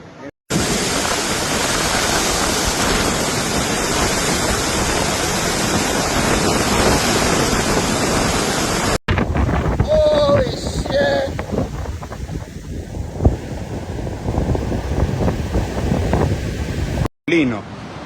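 Heavy roaring storm surf and wind from Tropical Storm Cristina at San Juan del Sur, Nicaragua, fill the clip with steady broadband noise, waves of 1.5 to 5.5 meters crashing continuously, with a person talking over part of it.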